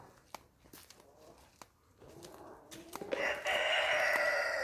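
Australorp chickens in a garden give a few soft, scattered clucks, then a loud, close crow rises and holds over the last seconds.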